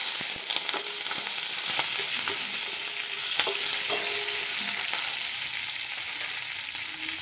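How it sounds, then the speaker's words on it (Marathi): A tempering of urad dal and curry leaves fries in hot oil in a pan, a dense continuous sizzle with occasional faint spoon scrapes, close and steady throughout, with no voices. "आणि कढीपत्ता। चांगलं हलवून घ्यायचं"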